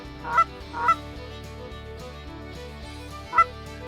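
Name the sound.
geese honking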